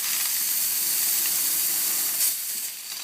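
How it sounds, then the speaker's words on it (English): A La Pavoni coffee maker's steam nozzle lets out a loud, continuous hiss of steam for a few seconds that tapers slightly near the end, heard alone without speech. "I'm just going to open the valve, let the water through. It'll be water at first, then followed by steam."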